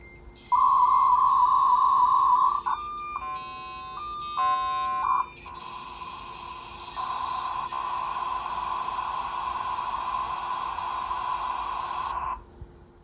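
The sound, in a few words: dial-up modem connecting from a Windows 95 Packard Bell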